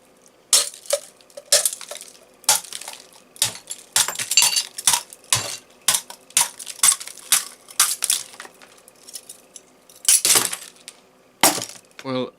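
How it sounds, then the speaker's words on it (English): A glass bottle struck and smashed with a tactical pen produces a long series of sharp, bright cracks and crunching breaks, some in quick clusters, with tinkling shards between hits and a heavier burst near the end. "I'll do it a bit lower down in case any glass smashes up"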